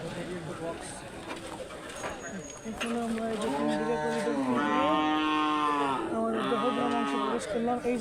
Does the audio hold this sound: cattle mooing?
yes